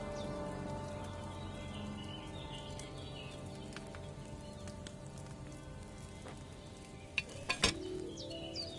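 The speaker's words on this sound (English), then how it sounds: "Hear that bubbling? It's boiling." Potion cauldron bubbling and boiling over a flame in Kingdom Come Deliverance II, a soft continuous fizzing bubble under quiet game ambience, with a few sharper pops near the end.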